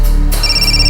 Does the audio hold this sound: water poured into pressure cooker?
no